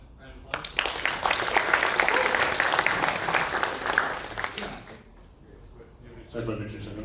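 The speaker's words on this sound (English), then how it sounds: "Give him a round of applause." An audience at a university entrepreneurship event claps in a sustained burst of applause that swells and then fades, followed by a brief voice.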